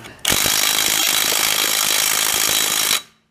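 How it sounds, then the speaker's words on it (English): A Craftsman 300 foot-pound impact gun loosening rusted wheel lug nuts: one loud, close, continuous burst of rattling hammering lasting close to three seconds, then cutting off, with no talking. "It's 300 foot-pounds of torque gun."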